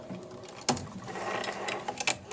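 A sewing machine stitches and backstitches fabric, its needle mechanism whirring in short mechanical bursts with clicks and a sharper knock near the start, running close and alone without talk.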